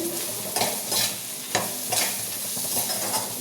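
Spices are stirred into a prawn curry in a hot pan, a steady sizzle and frying hiss under rhythmic scraping strokes of the spoon, close and fairly loud, with no talking.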